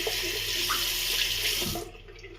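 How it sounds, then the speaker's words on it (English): Tap water runs steadily into a shaving lather bowl, a loud broadband hiss close by, cutting off near the end with no talk. "Could add some more water to this."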